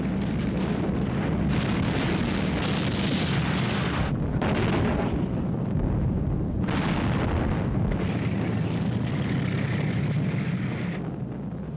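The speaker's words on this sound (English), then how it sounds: "The Soviet T-34s drove into the German lines and opened fire at point-blank range" Soviet T-34 tanks open fire at point-blank range in a huge World War II armored battle: continuous loud rumbling and booming with layered engine roar and blasts, dense and unbroken throughout, no speech.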